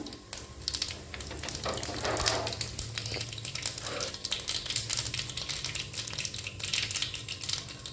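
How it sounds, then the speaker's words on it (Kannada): Mustard and cumin seeds sizzle and crackle steadily in hot oil in a pan, with dense popping spits throughout and no talking. "ಎಣ್ಣೆ ಕಾದೈತ್ರಿ, ಸ್ವಲ್ಪ ಸಾಸ್ಮೆ ಹಾಕೋಣ, ಸ್ವಲ್ಪ ಜೀರಿಗೆ ಹಾಕೋಣ"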